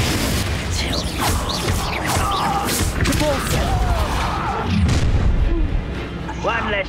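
Spell combat in Hogwarts Legacy, with a Capulso cast among dense crashing impacts, booms and whooshing magical effects that continue steadily, while a voice speaks over the battle.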